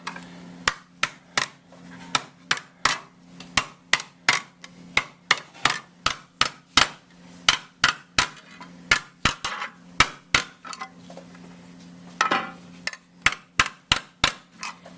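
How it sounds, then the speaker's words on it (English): Repeated metallic hammer blows sinking a copper bowl ring out in a steady rhythm, nearly thirty sharp strikes with a faint ringing tone between them, close up. "except with just a few hammer blows, and I just want to get it started"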